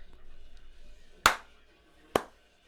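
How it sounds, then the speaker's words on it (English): Two sharp hand claps about a second apart ring out near and loud over the faint whir of noisy LED party lights. "I'm clapping to make it more noise"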